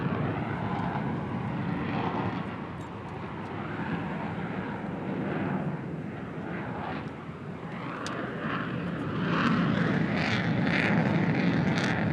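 A Navy F-35C fighter jet in a flyover display passes overhead with a broad, sustained engine roar that swells toward the end, with no talk over it.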